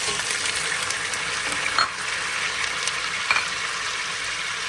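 Washed chicken pieces frying in a pan, a steady close hiss of sizzling oil with a couple of brief louder crackles, no talk.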